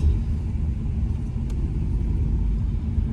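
A car with an automatic gearbox being driven gives a low, steady engine and road rumble from inside the cabin, smooth and continuous without gear-change breaks.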